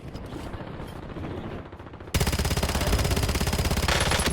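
Rapid automatic rifle fire in the Warzone video game, quieter bursts at first, then a loud continuous stream of close shots with a fast, even rhythm.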